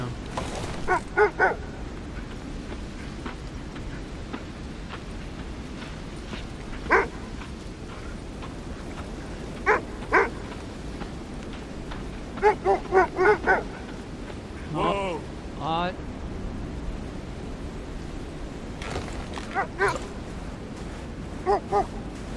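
Dogs in the video game Kona II: Brume bark and yip repeatedly, in short clustered bursts spread across the stretch, fairly close and loud over a constant murmuring game background.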